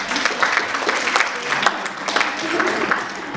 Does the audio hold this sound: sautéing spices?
no